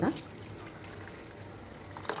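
Curdled milk for homemade paneer is poured through a wet cotton cloth, giving a brief liquid pour and trickle, with a short voice sound near the start.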